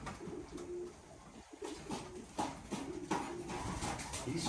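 Belgian pigeons coo steadily in a loft, their soft, repeated throaty calls overlapping amid light rustling and background noise, with no talking.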